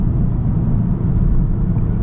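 Inside a moving 2023 Genesis G70 2.0t, the engine gives a steady, loud low rumble under road noise, with no breaks or changes in pace.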